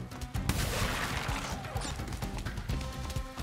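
A TNT crate blows up in Crash Bandicoot 4: It's About Time, a loud crashing burst followed by rattling, crackling debris and busy game sounds throughout.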